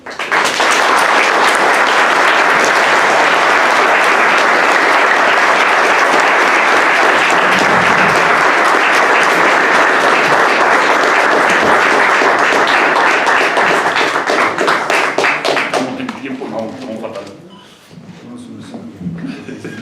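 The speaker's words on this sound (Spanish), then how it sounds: "Un aplauso muy merecido por parte del público" An audience at a university lecture applauds loudly and steadily for about fifteen seconds, dense clapping filling the room before it thins out into scattered claps and murmurs at the end.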